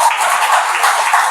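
Audience clapping fills a hall during a speech by heart surgeon Dr. Chokkalingam, a dense, steady wash of many hands lasting briefly without pause.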